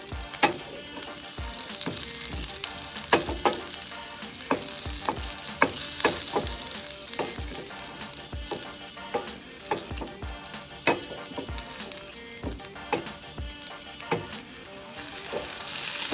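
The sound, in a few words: pepper, cumin, fenugreek, fennel, curry leaves frying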